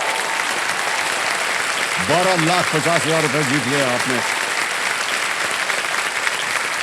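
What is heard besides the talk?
audience applause on a TV quiz show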